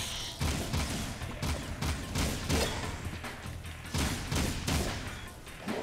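Enemy gunfire in Jak II during a fight against Metal Heads, heard as repeated bursts of shots and impacts coming in uneven clusters, fairly loud, with brief lulls between volleys.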